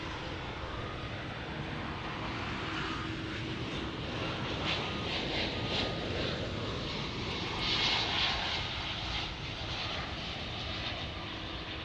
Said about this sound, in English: UPS 767 is about to land